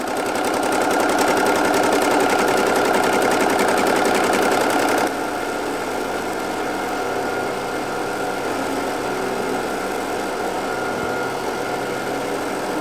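Embroidery machine stitching a 3D puff applique design onto a T-shirt: a steady, loud mechanical whir with rapid needle chatter that drops to a quieter continuous hum partway through, with no talking.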